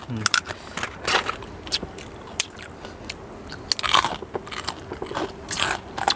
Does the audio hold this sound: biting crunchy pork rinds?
yes